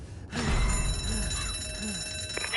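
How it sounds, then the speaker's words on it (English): A loud electronic alarm starts suddenly in a zombie survival game and rings continuously, a harsh jangling bell-like tone over rumbling background with warbling sounds mixed in. "Shit, it was rigged to the alarm."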